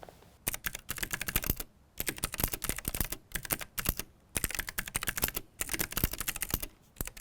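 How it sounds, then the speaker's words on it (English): Fast typing on a custom mechanical keyboard with clicky switches, dense bursts of sharp clicks separated by brief pauses, close and fairly quiet, with no voices. "every time you click, you press on the switch, it makes a very audible click sound that can sometimes be annoying, loud, obnoxious"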